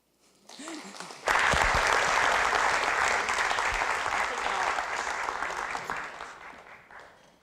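A symposium audience bursts into applause, loud sustained clapping from a crowd that starts abruptly, holds steady and slowly tapers off, with a brief voice just before it.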